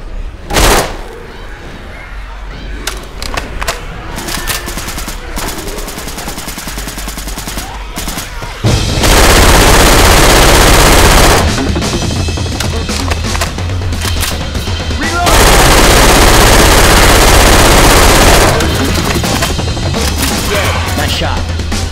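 Rapid gunfire in the zombie shooter Left 4 Dead 2, played on a custom RMS Titanic first-class campaign: scattered single shots at first, then loud, dense automatic bursts, with voices mixed in.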